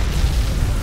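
Render cannon fire in the space battle game Battlefleet Gothic Armada 2, a loud deep rumbling boom that fills the whole brief moment without break.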